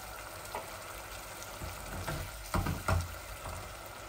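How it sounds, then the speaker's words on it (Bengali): Rui fish sautéed in a pan with ginger, lemon and a little water: continuous close frying hiss with a couple of louder bursts of sizzling and spatula movement near the end. "এই যে আমার মাছগুলো ভালো করে আমি কষাবো।"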